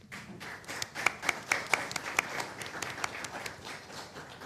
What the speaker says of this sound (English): I think we should applaud them on that